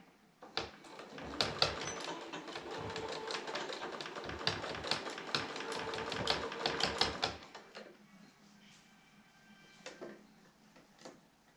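A sewing machine stitches fabric padded with sequins in a rapid run of close, sharp mechanical clatters lasting several seconds. The run stops abruptly and is followed by a quieter hum with a few scattered clicks.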